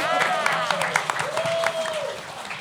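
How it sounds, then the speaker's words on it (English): Audience applause at a ShortFest festival forum session, a steady patter of clapping heard under a person speaking over it. "Give it a huge round of applause, please."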